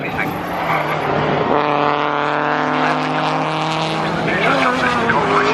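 Peugeot 206 GTi race cars scream past at Croft circuit, sustained loud engine whine with rising and shifting harmonic pitches as several cars pass close, a commentator's voice running underneath.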